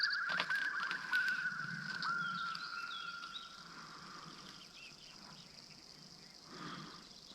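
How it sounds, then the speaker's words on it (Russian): Birds chirp and trill faintly in a spring forest beside a marsh, a few scattered calls over soft ambient rustle and patter, with no voices. "В лесу птички поют."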